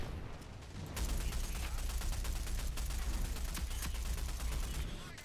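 Automatic gunfire in the video game Rogue Company: after a brief lead-in, a rapid, sustained stream of closely spaced shots rattles on loudly for several seconds with hardly a break.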